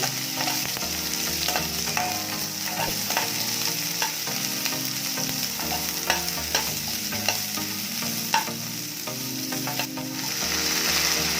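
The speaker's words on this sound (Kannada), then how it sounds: "ಸಣ್ಣದಾಗಿ ಹೆಚ್ಚಿಕೊಂಡಿದ್ನಲ್ಲ ಈರುಳ್ಳಿ, ಅದನ್ನು ಹಾಕೊಂಡಿದ್ದೀನಿ" Finely chopped small onion fries in a pan for spinach sambar, a continuous loud sizzle with frequent spatula scrapes and stirring knocks throughout.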